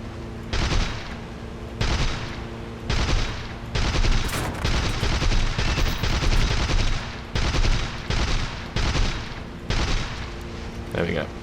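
Machine guns of a Bf 110 C-4 fighter in the War Thunder video game fire in repeated short bursts, about eight loud volleys in steady rhythm over constant engine drone.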